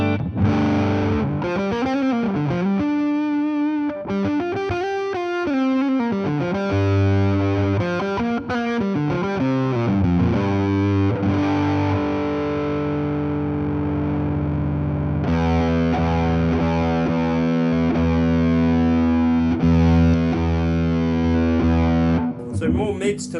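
A heavily distorted, fuzzy electric guitar through a Barber Exacta Fuzz pedal into a Deluxe Reverb amp's normal channel plays bending notes and riffs, then settles into thick sustained chords, loud and saturated throughout.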